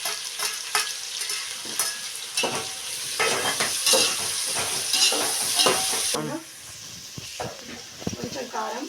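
Vegetables for veg biryani sizzle and hiss in a hot pan while a spoon stirs and scrapes them, with the frying fairly loud and close and a voice speaking briefly near the end.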